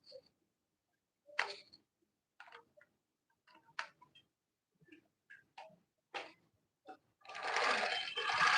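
A sewing machine stitching a satin bag runs in short, separate bursts of rapid clicking with quiet gaps between them, then settles into a longer, louder continuous run at the end.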